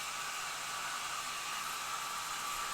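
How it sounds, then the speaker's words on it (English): A hair dryer blows with a steady, even whoosh of air, loud and unbroken for the whole stretch, used to weather a painted action figure's armor. "I'm going to use my hairdryer."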